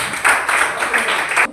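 A high-school class in a Christian religious education lesson bursts into brief, close applause, loud clapping in uneven surges lasting under two seconds.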